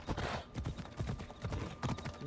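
Horse hooves clip-clopping steadily in a game of Assassin's Creed Odyssey, a rapid even gallop rhythm, loud and continuous throughout with no talking.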